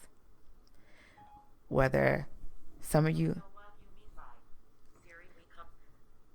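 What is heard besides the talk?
phone beeping and talking on its own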